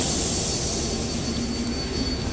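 Subway train on the 7 line in motion, a loud unbroken roar of wheels and motors with a thin high-pitched squeal riding on top, heard close from inside the car.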